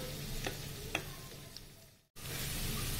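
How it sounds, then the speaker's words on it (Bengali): Cabbage pakoras deep frying in hot oil give a soft, steady sizzle with a few light clinks, faint and close, cut by a brief silent gap before the bubbling resumes; no one speaks. "পকোড়াগুলো ভাজা হচ্ছে"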